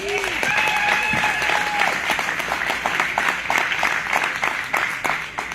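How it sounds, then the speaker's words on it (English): A crowd at the opening ceremony of the Great Bend Farm, Ranch and Hemp Expo applauds loudly and steadily for several seconds, with whoops and cheers rising above the clapping and a voice briefly audible early on. "kick it off with a big round of applause for the fact that we are here"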